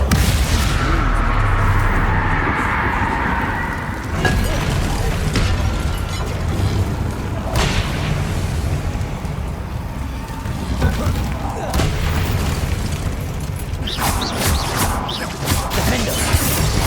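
Bombarda blasting spells in Hogwarts Legacy go off as several loud booming crashes, spaced a few seconds apart, over a busy bed of combat sound effects and game voices.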